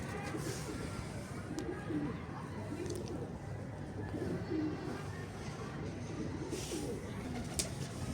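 A home-bred highflyer pigeon coos softly in repeated low phrases, close by, over a quiet background murmur.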